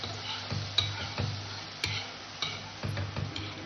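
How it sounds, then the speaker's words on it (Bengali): Butter being spread and stirred around a kadai on a gas stove, with soft scraping strokes and a light sizzle repeating in a steady rhythm, close and fairly quiet. "বাটারটা আমি সমস্ত কড়াইতে লাগিয়ে দেবো,"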